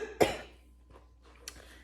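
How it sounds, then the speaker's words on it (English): A person with a cold gives one sharp, close cough, then a couple of softer throat-clearing sounds, with no voices. "I'm gonna cough again, excuse me."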